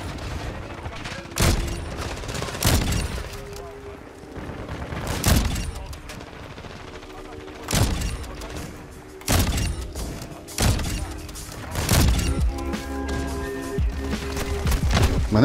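Repeated bursts of game gunfire, sharp cracks and booming shots in irregular clusters over a steady background of game sounds, with a voice talking faintly at times.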